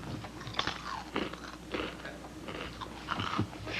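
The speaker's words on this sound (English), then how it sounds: "Proof that Crispix stays crunchy." Crispix cereal crunched in a series of crisp, irregular bites and chews, moderately close and fairly quiet, with no talking over it.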